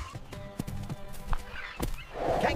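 A horse heard in a kids' animal-names sequence, with hoof clip-clops and snorting sounds across the clip and a brief neigh-like call near the end, moderately loud and close.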